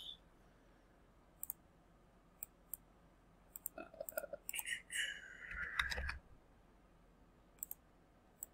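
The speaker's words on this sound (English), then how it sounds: "We're going to click on this." Mouse clicks on a computer while working through trading charts: several sharp, isolated clicks spaced irregularly, with a brief burst of other handling noise in the middle, quiet and close.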